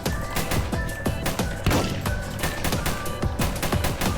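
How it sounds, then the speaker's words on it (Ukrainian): Rapid bursts of gunfire crackle continuously over a dense, busy Roblox game soundscape, loud and close with no talking. "Граєш, стріляєш ворогів."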